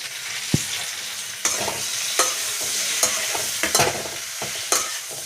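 Food frying in a home kitchen pan, a continuous sizzle broken by several sharp stirring scrapes and clacks at irregular intervals.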